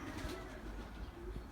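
Racing pigeons coo steadily in a loft, low soft warbling calls overlapping throughout at a moderate, close level with faint background noise.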